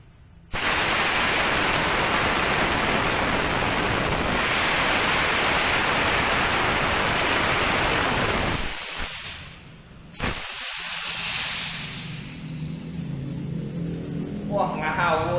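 An air compressor with its silencer removed gives off a loud, steady broadband hiss of rushing air. The hiss breaks off briefly, then returns at a lower level with some clatter.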